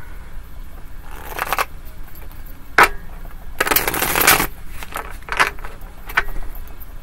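Cards riffle and slap together in several quick bursts of shuffling, close and crisp, with short pauses between.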